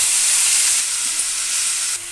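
Coriander leaves fry in a little oil in a pan, a dense close sizzle with steady hiss that eases slightly partway through, no voices.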